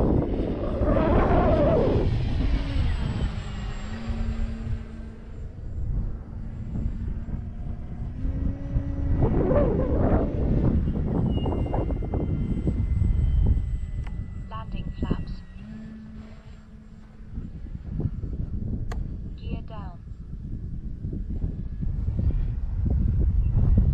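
A small E-flite T-28 radio-controlled model plane's motor whines and drones, rising and falling as it passes, with wind buffeting the microphone and people talking nearby.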